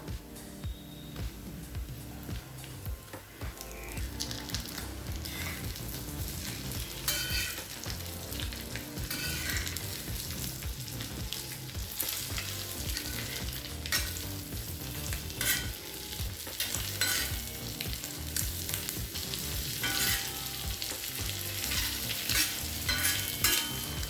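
Boiled eggs frying in masala, stirred steadily with a continuous crackling sizzle and repeated spoon scrapes that carry on without pause throughout.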